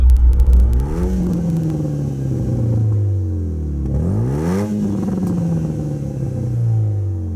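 A turbocharged 2-litre Renault Megane R26 accelerates hard in third gear, its engine note climbing loudly, dipping at a gear change, then rising again in a second strong pull, close and without talk.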